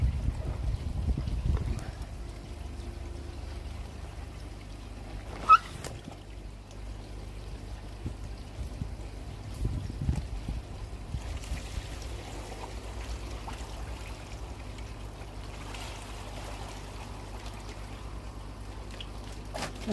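Water pouring from a heavy lifted fish bag into a koi pond, a continuous low splashing rush over about twenty seconds with occasional louder slops, moderately close.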